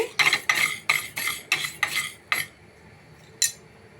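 Chutney ingredients are fried in a pan with a metal spatula, making about eight rhythmic, clinking scrapes in quick succession, then a pause and one last scrape. There is little audible sizzle.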